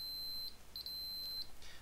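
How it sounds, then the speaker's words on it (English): Multimeter continuity tester sounding on a DigiPi digital radio controller circuit board: a few short, broken high beeps, interrupted rather than steady, fairly quiet and with no talking. "yeah, you hear a beep, but it's not continuous, and that's because of all the circuitry that's in there"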